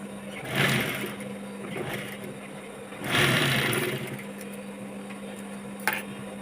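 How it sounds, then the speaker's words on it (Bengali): A sewing machine stitches fabric in two or three bursts of whirring motor noise, about a second long each, separated by quieter pauses with a low steady hum. "এই যে এইভাবে আমি তিনটে মাথা সেলাই করে নেব"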